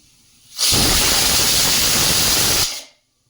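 A loud, steady hiss of steam rushing out of a pressure cooker for about two seconds, starting abruptly and tapering off into silence.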